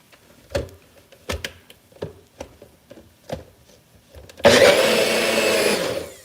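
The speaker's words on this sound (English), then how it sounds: "You might want to mute for a moment because the NutriBullet is going down" A few sharp knocks and taps give way to a NutriBullet blender roaring to life, its loud steady motor whir churning on for the final seconds while fluffing eggs for a spinach and sun-dried tomato frittata.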